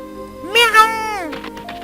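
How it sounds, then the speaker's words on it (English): A cartoonish cat meow from The Legend of Heroes: Trails in the Sky, a single rising-then-falling harmonic cry that is clear and fairly loud, with game sounds around it. "A fat cat."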